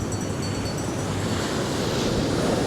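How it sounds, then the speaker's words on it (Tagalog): Strong ocean surf at a beach in northern Luzon, Philippines, a dense continuous roar of breaking waves mixed with wind noise, close and loud, with no voices. "Kasi tinan nyo, ang lakas ng alon talaga, oh."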